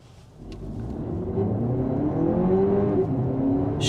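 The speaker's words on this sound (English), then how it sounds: "This time I won't brake torque it, we'll just floor it." A 2024 Lexus TX 500h F-Sport hybrid SUV accelerates at full throttle from a standstill, its engine note swelling into a steady, rising drone with a rushing hum, close and continuous, with no voices.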